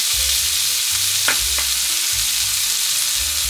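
Green onion, garlic and hot green chili stir-fried in rendered meat fat for fried rice, a loud, close, steady sizzle and crackle with a couple of sharp spatula scrapes, no voices.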